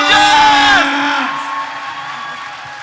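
A theatre crowd whoops, yells and cheers loudly for the Dog Soldiers cast and crew at a 20th anniversary horror film event, a burst of shouting that fades into sustained crowd noise.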